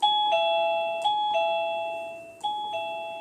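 A MECO wireless doorbell plays a repeated ding-dong pattern, several bright chimes in steady succession, loud and close with no voices.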